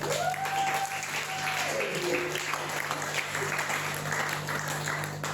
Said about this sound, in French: est-ce qu'on peut acclamer pour les femmes?